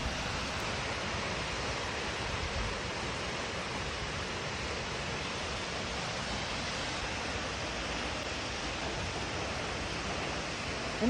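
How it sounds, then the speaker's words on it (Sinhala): Garandi Ella waterfall near Ramboda, Sri Lanka, gives off a continuous broadband rush of falling water, steady and fairly soft from a distance, with no voices. "ඉතින් ඔය තියෙන්නේ ගැරන්ඩි ඇල්ල."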